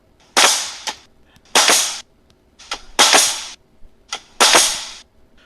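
Air-powered stake launcher firing at vampires: five sharp pneumatic bursts, each a hissing blast lasting about half a second, spaced irregularly and loud, with no talk.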